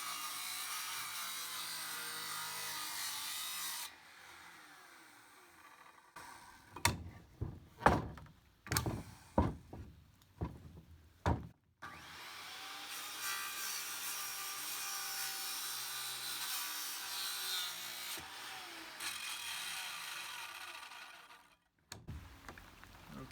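A wooden hip rafter has its seat cut sawn: a long, continuous rasping run of saw strokes, then a pause filled with several sharp wooden knocks, then another long stretch of steady sawing, all close and with no talk.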